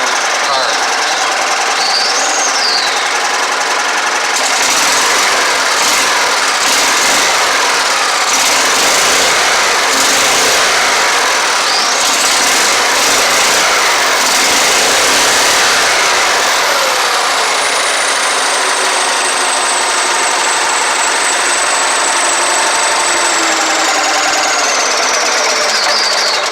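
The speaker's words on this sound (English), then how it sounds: "that's pretty good running for a Tecumseh." Tecumseh small engine on a mud mower, run with no choke after sitting outside in the rain, hammers along steadily and loudly for the whole stretch, with a rapid knocking chatter and a brief high whine near the end.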